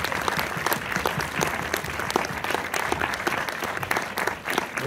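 Sustained audience applause fills a cinema hall at a film premiere in Orléans, dense steady clapping from a crowd throughout with no pauses, loud and close.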